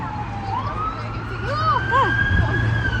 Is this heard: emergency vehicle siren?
yes